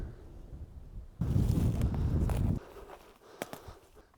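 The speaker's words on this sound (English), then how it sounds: "on a windy day?" A gust of wind buffets the microphone in a sudden low rumble for about a second in a Portuguese ghost town, then fades to quieter outdoor ambience with light clicks.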